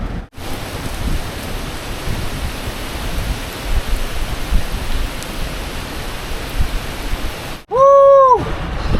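Heavy rain pours steadily in a dense, loud hiss outdoors, with a brief muffled break near the end followed by a short rising tone.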